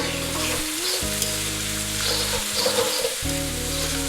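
Carrots and chopped bell pepper frying in a pan for egg and vegetable fried rice, a steady close sizzle broken by stirring scrapes that briefly cut the hiss, with no voices.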